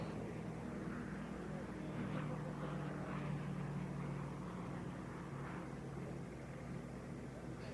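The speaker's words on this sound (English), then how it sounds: "Taking off right now, Scale Wings Aircraft's SW-51 Mustang." A Scale Wings SW-51 Mustang kit plane takes off at an air race, its engine a steady broad roar held at a distance throughout, with crowd and event noise mixed in.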